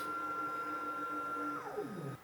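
An Autel ADAS calibration frame drives itself to its home position with a faint, steady motor whine that drops in pitch and winds down at the end, close and quiet.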